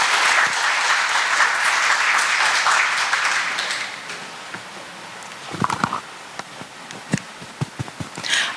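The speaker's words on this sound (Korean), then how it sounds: "박수로 환영해 주시면 감사드리겠습니다." An audience at a Seoul housing-welfare forum applauds to welcome a housing industry research institute speaker, dense clapping for about four seconds that thins into a few scattered claps.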